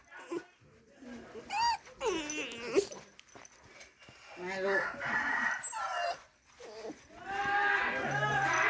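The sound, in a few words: rooster crowing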